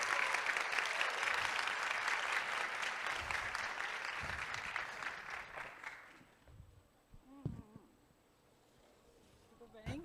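Conference audience at Mesa Tendências 2022 gives a loud burst of sustained clapping that fades after about six seconds, leaving a quiet room where a few voices begin speaking.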